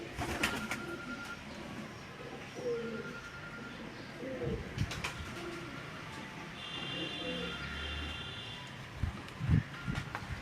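Flying pigeons coo repeatedly on a rooftop in Madina Town, Faisalabad, soft low rolling calls scattered through a long stretch over a quiet outdoor backdrop, with brief clatters and a thump near the end.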